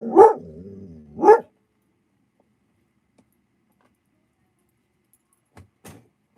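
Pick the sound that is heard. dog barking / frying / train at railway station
dog barking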